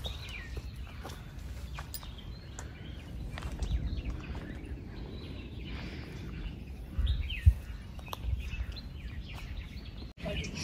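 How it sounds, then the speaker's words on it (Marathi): Sparrows chirp faintly along a sunrise trekking trail, scattered short tweets over soft outdoor rustle and footsteps, with a brief voice in the background. "सुंदर असा चिमण्यांचा आवाज येतोय"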